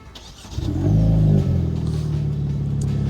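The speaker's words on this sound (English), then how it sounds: "those aren't my burnouts in case you were wondering" A revving car engine close by, likely a Hyundai Elantra N, roars up sharply then holds a steady, loud growl throughout, with no talking.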